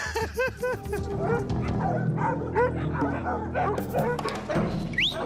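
Rottweiler puppies bark and yip in quick repeated bursts, close and loud, with whimpers and voices mixed in.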